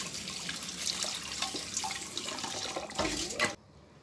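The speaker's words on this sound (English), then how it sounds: "Then wash the tatash very well because we're going to roast it." Tatashe and yellow bell peppers rinsed under a running kitchen tap, a steady close splashing of water that stops abruptly near the end, with no voices.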